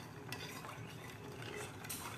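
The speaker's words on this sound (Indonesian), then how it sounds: "Terus diaduk ya supaya tidak pecah santannya." A spoon stirring mung bean porridge with coconut milk and sugar in a pot, with soft scraping and light swishing that goes on steadily, faint and close, with no talking.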